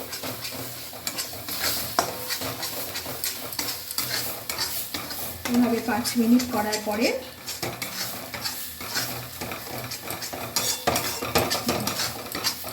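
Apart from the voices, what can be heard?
stirring cauliflower-leaf paste in a wok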